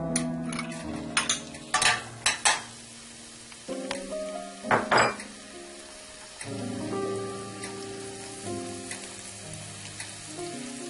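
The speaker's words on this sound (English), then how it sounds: "We will be sautéing the garlic until it's nicely golden." Garlic sautéing in oil for a spicy red snapper dish, a close crackling sizzle with several sharp bursts and stirring scrapes early on, then settling into a softer continuous fry with no talk.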